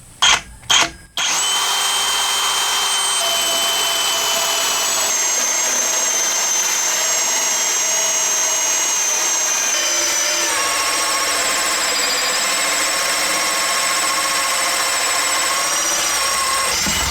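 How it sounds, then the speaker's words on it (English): A power drill whines steadily and loudly, boring continuously through a wooden wall stud in a mobile home after a couple of brief starting bursts. "I definitely don't like drilling a stud out like this"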